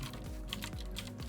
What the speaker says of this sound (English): So let's type in the address here.